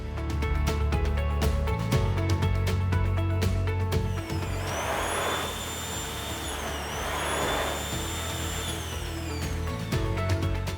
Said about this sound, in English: As well as a quieter hand dryer